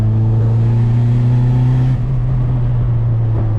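A boosted Honda Accord engine runs on a dyno at high revs as a loud, steady, close drone that dips slightly near the end.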